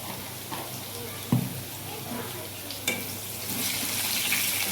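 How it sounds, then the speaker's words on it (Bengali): Potatoes frying in a pan after fish was fried, a steady broadband sizzle throughout with a couple of sharp utensil clicks and stirring noises, close and moderately loud. "আলু ভাজা হয়ে গেলে স্বাদ মতো নুন দিতে হবে।"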